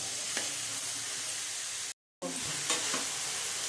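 Momo filling sizzles steadily in a hot pan while it is stirred, a loud continuous frying hiss with scraping strokes, briefly cut by a short silent gap.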